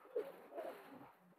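A high-flying pigeon with a red neck coos softly at a pigeon farm, two or three low, throaty calls close by with no voices around.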